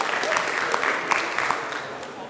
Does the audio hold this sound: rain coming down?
no